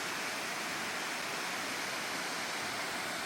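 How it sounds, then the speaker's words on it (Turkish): Güzelcedere waterfall heard as a steady, dense roar of falling water, continuous and fairly even throughout, with no voices over it. "Şelaleyi görebileceğimiz ilk noktaya geldik."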